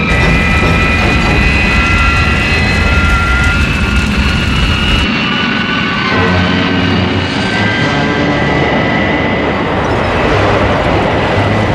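Jet engines roar continuously as an aircraft dives, a loud, dense whine with sustained high tones that shifts in pitch partway through, with no talk over it.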